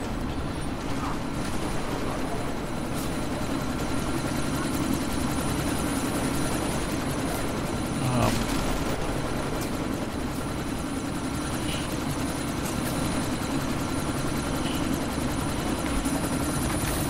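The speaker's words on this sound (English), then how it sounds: "I'm just heading for the chopper on this one." A helicopter in the Deus Ex: Mankind Divided video game drones steadily throughout, its rotor wash forming a loud, continuous, unbroken roar with no pauses or talk over it.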